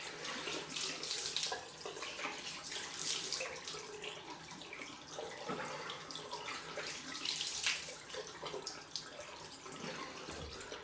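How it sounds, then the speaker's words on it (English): A face is washed under a running tap: steady splashing water flows into a sink for about ten seconds, close and fairly loud, with no talking. "I need to wash this off because there's loads of bits of black fluff on my face."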